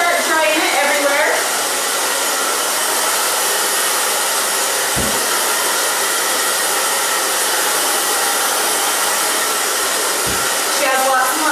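Hair dryer blowing steadily on thick layered hair, a loud continuous rushing whoosh that runs for the whole stretch, broken only by two brief dips in airflow.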